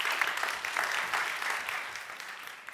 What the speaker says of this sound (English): of course a warm applause